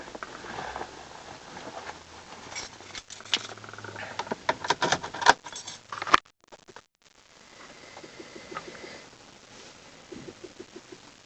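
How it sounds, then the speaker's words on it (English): Car keys jangle and clatter close by inside a Skoda Octavia 2.0 PD 140, a burst of metallic rattles followed by a brief lull and lighter fumbling sounds. "Need the keys."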